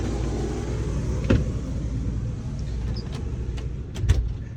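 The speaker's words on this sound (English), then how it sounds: "Let's just turn the AC on this one. You hear it." A steady mechanical hum and whoosh of a 2009 Forest River GeorgeTown 379TS RV's air conditioner running nearby, with a few faint clicks and taps over it.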